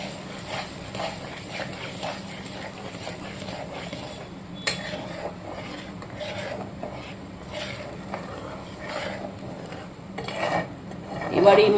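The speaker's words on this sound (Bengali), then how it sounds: "এবার এটা ভালো করে আমি মশলার সাথে কষিয়ে নেব।" Prawns frying with spices in a pan, a low sizzle under intermittent scraping and clinking of a spatula against the metal, close and moderately loud.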